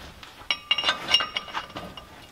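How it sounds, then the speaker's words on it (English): Metallic clinks and taps as a metal wheel hub assembly is set back onto a Dana 44 axle, several sharp close contacts followed by lighter scraping knocks. "We can now place the hub assembly back on."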